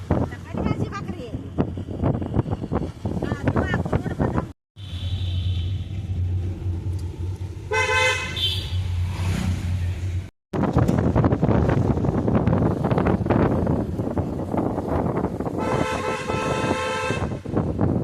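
A family car arrives during heavy rain, sounding its horn in a couple of short toots over a steady roar of rain and wind, with people talking throughout.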